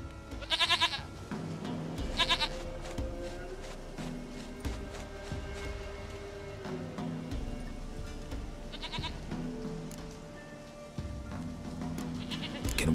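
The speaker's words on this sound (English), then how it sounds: "Goat of mine! Dearest, sweetest goat!" Bleats from a goat in The Witcher 3: Wild Hunt, a few short bursts near the start and another around the ninth second, over a steady bed of game ambience and footsteps.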